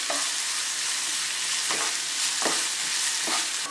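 Sliced onions sautéing in a pan for a pork curry, a loud, continuous close sizzle broken by a few scraping stirs, with no voices.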